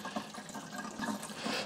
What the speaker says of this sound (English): We've got water coming out of both of these.